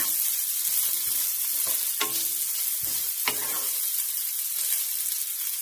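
Onions browning in a pan for a mutton chops curry sizzle and hiss continuously, with a few clinks and stirring scrapes of a spoon through the oil, close and alone.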